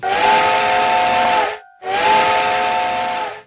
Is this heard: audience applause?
no